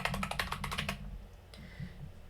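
Quick bursts of keys being struck on a laptop computer keyboard, a dense rapid run of clicks close by for the first second, then a pause and a few softer scattered taps.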